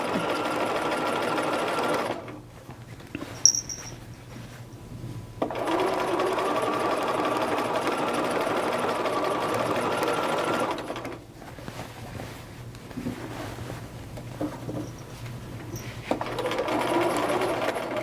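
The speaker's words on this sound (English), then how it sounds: "sew everything in place at your 5/8 inch seam line, and go around the whole skirt" A sewing machine stitches a 5/8 inch seam around a gathered skirt in long runs, stopping and restarting several times with short pauses and soft clicks between; a voice is briefly heard.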